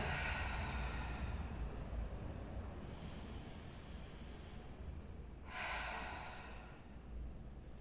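Slow, close breathing during a diaphragm relaxation exercise: long airy inhales and exhales swell and fade against a steady low rumble.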